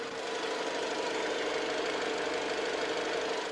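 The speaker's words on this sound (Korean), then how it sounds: "2400cc의 또 가솔린 엔진 소리 가까이서 들려드리면서" A 2.4-litre petrol engine in a 2019 off-road SUV idling close up, a smooth steady hum with a faint even mechanical ticking and no change in pace.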